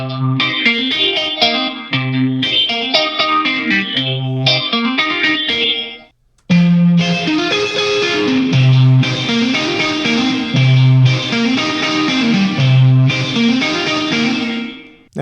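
Electric guitar runs through a Guitar Rig effects preset, heavy with chorus, distortion and echo, playing repeated rhythmic chord patterns with a brief pause near the middle, loud and full throughout.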